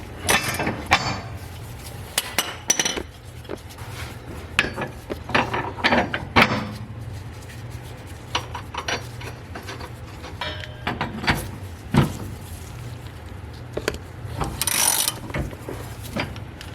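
Ratchet tightening the mustache brace bolts on an Eagle Talon: bursts of rapid close clicking strokes separated by pauses, loud and crisp over a low background hum.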